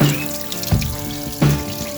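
Water pours steadily down the main fall of a homemade garden pond waterfall, a continuous close splashing rush with two brief louder surges.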